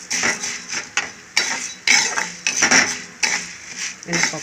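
A metal spoon scrapes and scoops roasted chana dal out of a pan, giving loud, close clatters and scrapes in uneven bursts.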